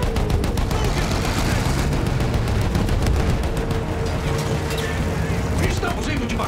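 Battlefield 1 campaign combat, with dense rapid gunfire, machine-gun bursts and booming cannon blasts under loud battle noise, running continuously throughout.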